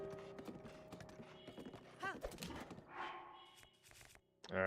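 Horse hooves clip-clopping in the game Zelda: Breath of the Wild, a rhythmic run of hoofbeats over in-game music and effects, with a brief whinny midway and a louder burst of game sound at the end.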